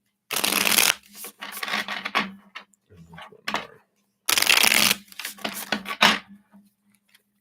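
Tarot cards being shuffled by hand during a live reading session, with two long bursts of riffling and a few shorter shuffles in between, loud and close, with a brief spoken phrase.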